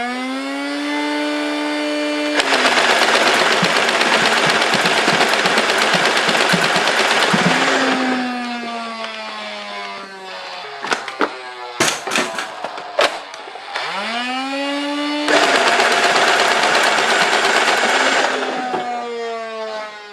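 An overhauled Nerf Nitron blaster fed from a 40-round drum fires in two long, loud bursts of rapid whirring shots with a motor pitch that ramps up and winds down, separated by a stretch of clicking and handling.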